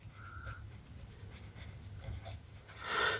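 A pen scratches across paper in short, quick strokes while numbers are written out by hand, ending in a louder scribble, close up, with no talking.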